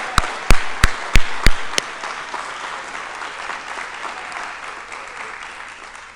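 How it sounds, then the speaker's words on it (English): Crowd at an Army officer commissioning ceremony breaks into applause, opening with several loud, sharp claps close by before settling into a softer, steady round of clapping that fades toward the end. "let's get one last round of applause for all our brand new United States"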